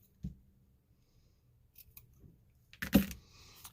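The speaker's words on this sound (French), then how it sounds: "Là, je vais venir couper." Scissors cutting during filament spool recycling: a single sharp snip near the start, then quiet, a few faint handling clicks, and a louder close snip-and-rustle near the end, no voices.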